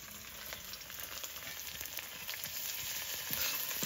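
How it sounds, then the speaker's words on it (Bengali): Ginger paste added to onion and garlic in a large open wok, spluttering and crackling in hot oil with a dense, close sizzle that grows slightly louder, no speech. "আদা কিন্তু চিটচিট করে ফোটে"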